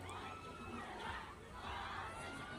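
Crowd at a concert in the Philippines cheering and shouting in a continuous, somewhat distant roar of many voices that swells and eases slightly.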